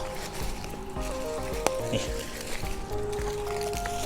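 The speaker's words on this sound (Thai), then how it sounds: "เดี๋ยวผมจะเอาน้ำจากนี่ครับ มาฉีดล้างแผ่น" A garden hose sprays water steadily onto solar panels for cleaning on a sunny day, giving a continuous splashing hiss. Someone speaks briefly over it.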